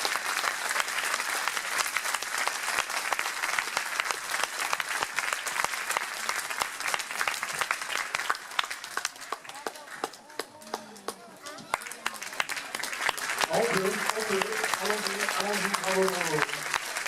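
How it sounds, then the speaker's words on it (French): An audience applauds at a judo gala with vigorous sustained clapping that briefly eases midway, then swells again as a voice speaks over it near the end. "Un grand merci à vous, on peut encore les applaudir"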